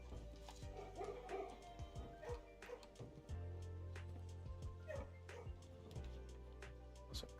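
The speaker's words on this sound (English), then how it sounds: "You could hear the dog being pet." A dog being petted in the Monster Hunter Wilds video game, giving soft happy yips and whimpering little barks over a low steady game hum, with occasional faint voice in the background.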